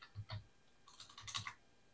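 Typing on an English-layout computer keyboard, quiet close key clicks in a few short irregular bursts, faint overall, with no voices.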